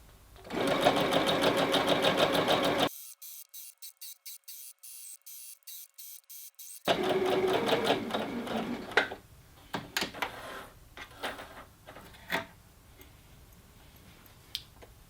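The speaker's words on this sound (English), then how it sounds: "I'm going to sew that final row of stitches at 1/2 an inch" A sewing machine runs a row of stitches half an inch in on a tiered dress panel: steady close motor hum, then a rapid ticking stretch of slow stitching, then resumed running with scattered clicks and handling.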